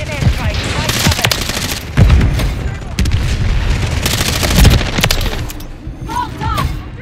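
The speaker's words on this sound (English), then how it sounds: "They've got a enemy precision airstrike." A precision airstrike lands in a war video game, heavy booming blasts and rapid gunfire rolling across a dense battlefield din, with several loud impacts and a voice speaking over the chaos.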